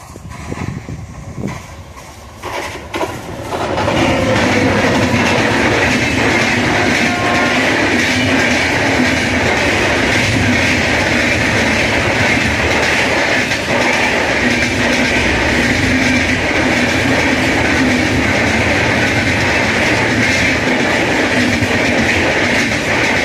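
A WAP-7 electric locomotive hauling the Paschim Express passes at speed, a loud, steady rail roar with wheel clatter that builds quickly after a few seconds and holds close for about twenty seconds.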